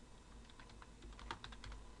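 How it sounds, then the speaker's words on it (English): Quiet, rapid keystrokes on a computer keyboard clatter in short bursts, close and soft, with no voices. "I'm typing it in the wrong box"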